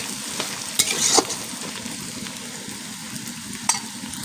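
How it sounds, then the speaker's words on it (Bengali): Onions frying in oil in a pan while being stirred, a steady loud close sizzle with a few scraping and clinking spatula strokes. "ওই জন্য আমি একটু নড়াচড়া করে নিচ্ছি পেঁয়াজটাকে"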